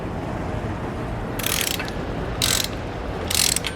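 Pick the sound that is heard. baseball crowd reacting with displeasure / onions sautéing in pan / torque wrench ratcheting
torque wrench ratcheting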